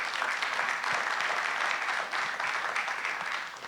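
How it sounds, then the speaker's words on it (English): Applause from an audience at a Marysville community event honoring local project leaders, dense and steady clapping from many people, moderately loud and tapering slightly at the end. "let's give them another round of applause for their commitment to our community"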